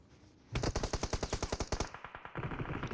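Rapid automatic gunfire rings out in a Free Fire battle royale match, one loud close burst of roughly a dozen evenly spaced shots, then a brief trailing rumble.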